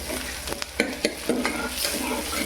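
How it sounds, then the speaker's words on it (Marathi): Onion, cumin, curry leaves and a piece of cinnamon fry in hot oil for misal, with a loud, close sizzle broken by several sharp scraping strokes of a stirring spoon against the pan. "बघा कांदा जिरं कढीपत्ता आणि दालचिनीची आपण फोड घेतली"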